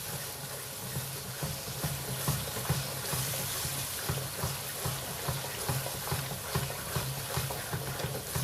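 Eggplant pieces stirred and mixed in a hot pan for baingan bharta, giving a steady close sizzle and hiss with repeated scraping and stirring strokes throughout, no talking.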